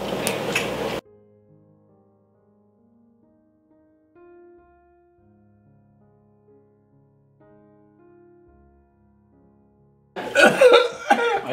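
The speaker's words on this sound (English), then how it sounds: "I think it's coughing." Harsh coughing bursts open and close the stretch, separated by a long near-silent gap with only faint soft tones.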